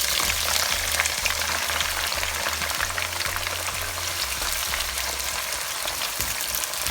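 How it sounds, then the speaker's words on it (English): Onions frying in oil for a corned beef and egg stew, a steady, loud, close sizzle that crackles continuously without pause. "So I'll put that into the oil."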